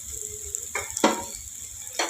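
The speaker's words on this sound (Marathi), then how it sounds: "मसाले देखील आपण तेलामध्ये भाजून घेऊया" Chilli powder, turmeric and garam masala roasting in hot oil, a steady soft sizzle with a few louder bursts of crackle and stirring, close by and with no talking.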